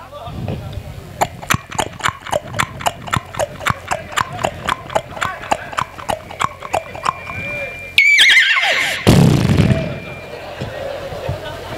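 A performer vocally imitates a horse-drawn tonga on a road, with a long run of evenly spaced clip-clop hoofbeats followed by a loud neigh, close and clear.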